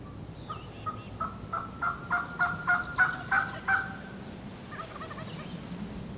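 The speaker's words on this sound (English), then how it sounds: "He wants to find out where the gobblers are." Several wild turkey gobblers gobble during a spring hunt in New Mexico, a quick series of rattling gobbles in a rising and falling cluster, moderately distant across open country with no talk.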